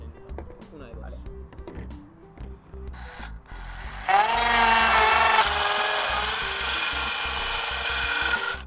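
Sandpaper of 80 or 60 grit rubs along a wooden Jugger stick, a gritty scraping that grows louder and steadier after a few seconds, with voices talking over it.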